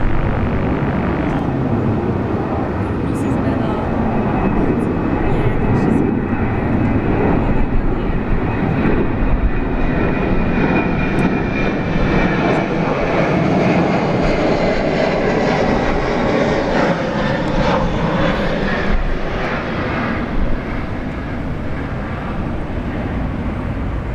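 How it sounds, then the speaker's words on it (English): A Singapore Airlines Airbus A380 takes off from Sydney International Airport, its engines a loud, steady, broad roar that holds for the whole stretch with only a slight fade near the end. "There's two kings, isn't there? Singapore Airlines A380."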